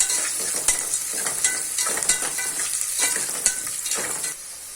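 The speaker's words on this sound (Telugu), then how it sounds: "ఇప్పుడు చిల్లీ వేసుకోండి. గోల్డెన్ బ్రౌన్ వచ్చేంత వరకు బాగా వేయించుకోండి." Chillies fry in a pan until golden brown, a steady sizzle broken by rhythmic scraping stirs about every half second, close and clear, with no voices.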